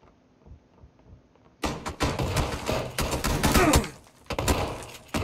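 Video game shotgun blasts of buckshot erupt suddenly after a quiet stretch, a loud cluster of close, booming shots with a brief lull before another burst.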